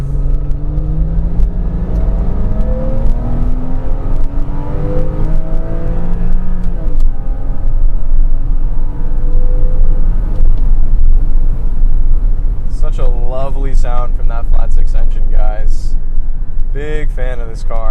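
A 2001 Porsche 986 Boxster S accelerates hard through the gears, its engine note rising in pitch for several seconds before a brief shift, then continuing to pull loudly, with a person's voice breaking in near the end.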